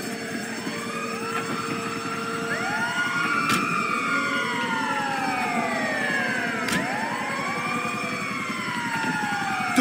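An ambulance siren wails in the video game GTA 5, its rising and falling tones sweeping repeatedly over a steady engine rumble, fairly close and continuous with no talking.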